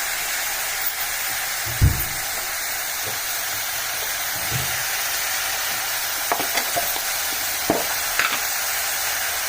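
Tomatoes sizzle steadily in a hot pan, a constant close frying hiss broken by a few soft scrapes and knocks of stirring, with no talking.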